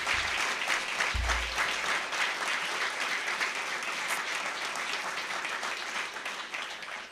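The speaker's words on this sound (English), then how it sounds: "So please join me for the round of applause for the City Council and for CRDA." Audience at a city hall sports announcement gives a sustained round of applause, dense and even clapping from a crowd lasting the whole stretch, fairly distant.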